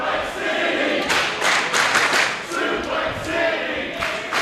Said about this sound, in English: And now you hear the crowd